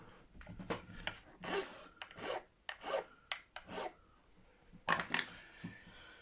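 A file rasps across the sharp corners of a nut on a Japanese Fender Mustang guitar, with about a dozen short, close scraping strokes in an uneven rhythm, quiet and with no voices.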